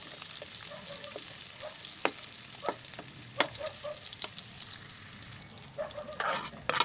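Quiet sizzling of onions frying in a pan for a Filipino crab-in-coconut-milk dish, with a steady hiss broken by scattered clicks and scrapes as the food is stirred.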